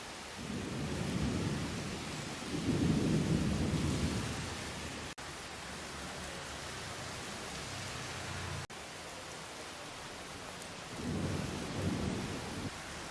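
Steady heavy monsoon rain in Pune hisses throughout while deep rumbles of thunder roll in and fade, swelling at several points.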